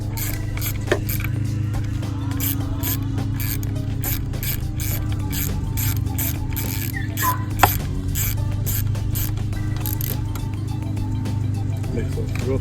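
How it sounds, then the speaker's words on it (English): Rapid, evenly spaced ratchet clicks come from tightening a carburetor manifold bolt on an engine, heard close over a steady low hum. "Tighten up the bolt for the manifold."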